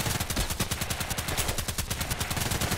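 HK417 rifle fire in a shooting video game, a dense run of rapid repeated shots at an even fast rhythm, loud and continuous with no talking.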